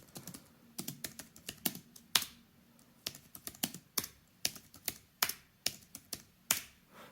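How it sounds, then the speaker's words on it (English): A Logitech MX Keys keyboard is typed on up close, giving crisp, fairly quiet individual key taps in an irregular rhythm with short pauses between bursts. "I will also now bring the camera a little bit closer to the keyboard so you guys can see how loud this keyboard can get."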